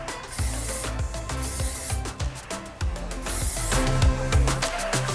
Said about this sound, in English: I'm gonna quickly add the Next Level Nordic Cotton Heat Activated Volume Spray just to the whole hair